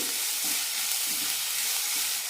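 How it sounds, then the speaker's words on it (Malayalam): Sliced onions sautéing and being stirred in a pan over a low flame, with salt added, a steady soft sizzle broken by periodic scraping strokes of a spoon, close and continuous with no talking. "ലോ ഫ്ലെയിമിലിട്ട് വഴറ്റിയെടുക്കാം സവാള ലൈറ്റായിട്ടൊന്ന് ഗോൾഡൻ ആയി മതി"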